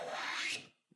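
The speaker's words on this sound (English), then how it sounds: "I'm going to hold the plane over on that side, take a couple of shavings" A hand plane draws a single shaving off a wooden board in one smooth, close, hissing stroke lasting about half a second, then stops, followed by a faint small tap.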